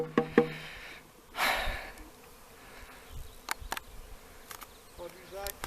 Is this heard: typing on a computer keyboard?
no